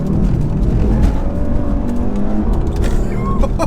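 An Audi RS3 with quattro, traction control off and a manual gearbox, accelerating hard: a loud continuous engine roar with rising revs and road noise, close up throughout.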